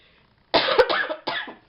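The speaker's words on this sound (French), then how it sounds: "ça se peut que je tousse un peu pendant la vidéo." Three harsh, close coughs in quick succession, the middle one short, with quiet before them.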